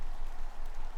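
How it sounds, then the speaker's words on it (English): Steady rain falls in the moorland village setting of The Excavation of Hob's Barrow, a dense, even patter of drops filling a brief moment with no voices. "Raining again."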